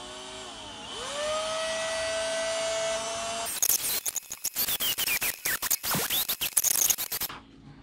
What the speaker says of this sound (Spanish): Pero yo se lo voy a poner aquí al taladro.